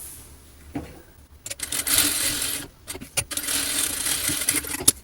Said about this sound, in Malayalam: ഇനി നമുക്ക് ഇതിൻ്റെ മീതെ ഒരു സ്റ്റിച്ചും കൂടെ കൊടുക്കാം കേട്ടോ ഒരു ഡബിൾ സ്റ്റിച്ചും കൂടെ കൊടുക്കാം